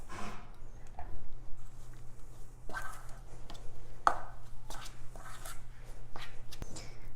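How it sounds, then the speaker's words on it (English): Cashew butter filling thickened with confectioner sugar is stirred in a bowl, giving a run of soft, irregular scrapes and taps against the bowl over a steady low hum. "And then we're just going to simply stir that up."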